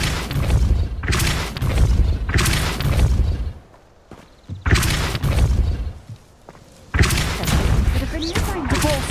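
Depulso spell cast in the video game Hogwarts Legacy, heavy booming thuds and crashing impacts in several loud bursts separated by short quieter gaps, with game voices at times.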